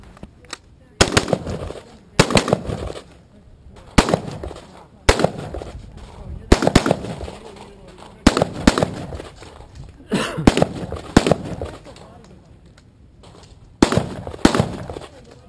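AR-15 rifle fired outdoors, recorded close by: loud, sharp reports come singly and in quick clusters, each with a short ringing tail and brief quiet gaps between strings of shots.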